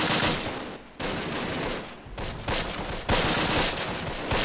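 Machine gun fire in the Close Combat video game rattles out in loud, sustained bursts broken by short pauses, dense and close throughout.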